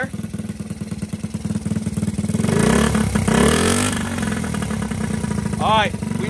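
A small Honda Z50 motorcycle engine with a lawnmower muffler putters rapidly, then revs up into a louder rasping drone before easing back, close by.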